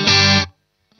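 An electric guitar chord plays through a Poly Effects Beebo pedal set to a red phone box reverb, loud, bright and distorted, cut off abruptly after under half a second with only a very short, dry tail.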